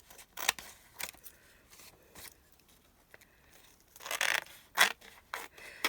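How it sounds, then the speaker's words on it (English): Scissors trimming excess napkin paper for a journal, giving a few crisp snips and scraping cuts in irregular bursts, the strongest and loudest near the end, with no voices. "So I'm just trimming off the excess."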